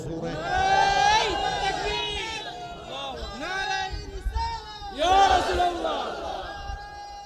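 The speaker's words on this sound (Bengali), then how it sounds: "আর জবান খুলে একটা তাকবীর হবে জোরে" A crowd at a religious sermon loudly shouts takbir, repeated bursts of massed voices rising and falling in waves, with overlapping chatter between the calls.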